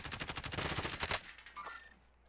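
Rapid automatic gunfire in Call of Duty: Warzone, a fast burst of shots lasting about a second. A short ringing tail follows, then near silence, all fairly quiet.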